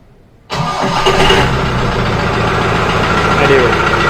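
A Mahindra Bolero 4x4 facelift off-roader starts abruptly and settles into a loud, steady diesel idle with a slight rise in revs, heard close and alone.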